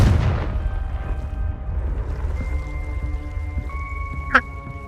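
A Confringo spell bursts in Hogwarts Legacy, a boom-like blast among rumbling game ambience with a brief sharp flare near the end, steady musical tones sustained underneath.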